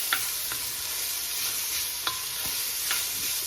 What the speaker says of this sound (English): I'm just going to give this a little stir.